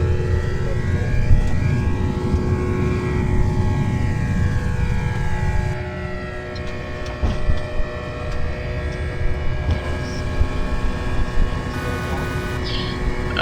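A steady, droning hum of DC-10 airliner engines in a flight simulator game, with sustained whining tones over a constant rumble at moderate loudness.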